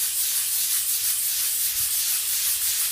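A hand-held burnishing pad and water rubbed over black slate that still carries some sealer, giving a steady, close, continuous abrasive wet hiss with no pauses and no speech.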